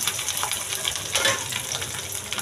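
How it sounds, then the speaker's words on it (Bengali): Sliced onions dropped into a pan of hot oil with dried garlic, a steady loud sizzle and crackle of frying throughout, with a swell as the onions hit the oil. "পেঁয়াজগুলো দিয়ে দিচ্ছি।"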